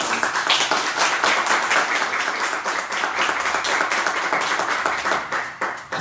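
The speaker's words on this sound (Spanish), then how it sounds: "pido un fuerte aplauso" Warm applause from an audience at a book presentation, many hands clapping steadily and densely throughout before beginning to thin out.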